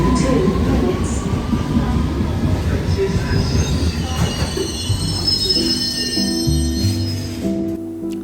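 A London Underground Circle Line train rumbles loudly up close, its wheels squealing in high, sustained whines, with steadier tonal sounds and a brief voice toward the end.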